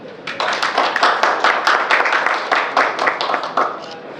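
Audience at a film's 25th-day success celebration breaking into applause, a dense rapid patter of many hands clapping close by, steady for several seconds before easing off.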